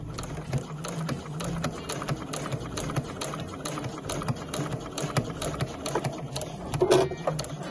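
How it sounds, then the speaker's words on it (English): A sewing machine stitches scrappy fabric with a steady mechanical chatter, running continuously at moderate loudness with small bumps and a brief louder burst near the end. "I'm going to continue stitching until I get to that mark there, which is in line with these stitches here."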